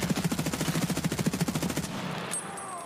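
A full magazine emptied in one long rapid automatic burst in Escape from Tarkov. The shots are close and loud and stop abruptly after about two seconds, leaving a quieter tail.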